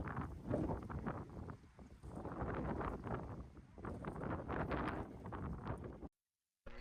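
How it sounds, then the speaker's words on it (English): Steady wind at a tea plantation in Furnas, São Miguel, Azores, buffeting the microphone, a low roaring rush that swells and eases throughout before cutting out abruptly. "It is windy in the Azores."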